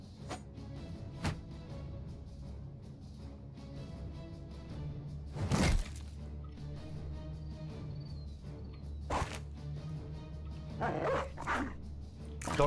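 Dogs bark in the fantasy combat game Battle Brothers, a few sharp, isolated barks and yips spaced across a steady game soundscape, moderately loud.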